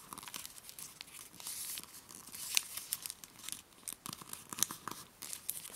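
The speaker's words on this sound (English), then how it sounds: "And then we'll just fold the edges in again." Paper for an origami frog is folded by hand at close range, producing quiet crinkles, soft creases and papery rustles in uneven bursts.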